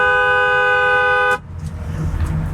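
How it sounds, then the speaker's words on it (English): An old BMW's loud, steady car horn blares for over a second, then cuts off, leaving low road and engine rumble. "I genuinely forgot about your horn, and I was like, why am I being honked at?"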